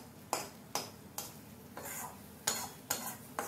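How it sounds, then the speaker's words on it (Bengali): A spoon scraping and stirring chhana (cottage cheese) in a pan, with regular strokes at roughly two per second, close and fairly quiet with no talk. "কন্টিনিউ আমি নাড়াচাড়া করছি"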